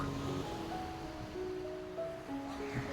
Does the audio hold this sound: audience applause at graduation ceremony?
no